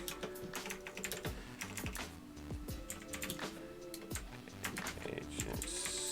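Quick bursts of typing on a computer keyboard, key clicks tapping close and fairly quiet, with a voice talking over them.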